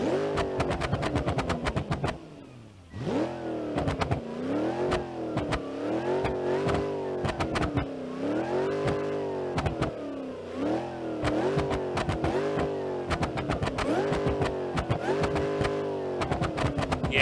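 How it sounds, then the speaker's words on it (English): A car in the driving game BeamNG.drive revving repeatedly, its engine note rising and falling with a high supercharger whine over it, loud and continuous with rhythmic surges. "I'm so happy that they actually added a supercharger whine."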